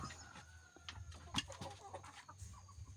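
A white laying hen in a village flock clucks in short, soft, broken calls, close by against a quiet farmyard background, with a few sharper clucks standing out.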